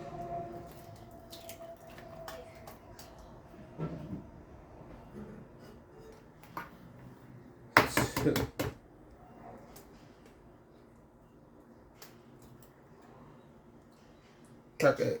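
Two eggs cracked into homemade cornbread mix, a messy crack giving a sharp, loud cluster of snaps and splats midway through, with a few smaller knocks elsewhere, while someone talks quietly throughout.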